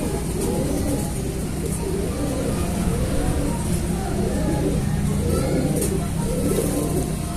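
Imported pigeons coo in repeated soft rolling phrases close by, several birds overlapping against a steady background hiss.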